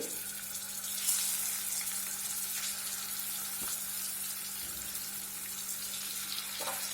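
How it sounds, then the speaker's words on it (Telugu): Boiled eggs fry in hot oil with chilli powder and salt for an egg curry, giving a steady, close sizzle and hiss that holds evenly throughout, with a few faint utensil clinks and no talk. "ఇలా వేసుకొని ఒక 2 నిమిషాల పాటు ఈ ఎగ్స్ని బాగా ఫ్రై చేసుకుందాం ఈ నూనెలో."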